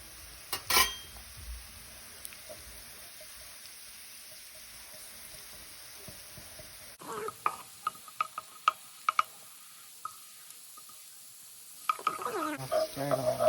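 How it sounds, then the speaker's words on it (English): Garlic hits hot oil in a pan, a faint low hiss at first, then a busier sizzle with a run of sharp clicks and taps of a utensil stirring against the pan, no talking. "that's where I'm going to dump the garlic right in the middle there"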